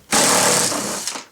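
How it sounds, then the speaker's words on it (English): A Makita power drill fitted with two extensions drives small 10mm Phillips screws on a 2007-2014 Nissan Rogue door panel, giving one loud, close, continuous motor whir of just over a second. "I got my Makita rigged up with two extensions to kind of reach in there with the little 10mm"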